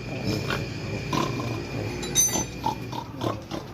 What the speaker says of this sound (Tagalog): Baboy damo.